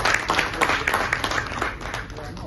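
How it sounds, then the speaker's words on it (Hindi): A theatre festival audience breaks into applause for an honoured guest, a writer and poet; dense, steady clapping fills the hall for a couple of seconds at moderate loudness, with a slight fade at the end. "एक बार सर दे लई जोरदार तालियां।"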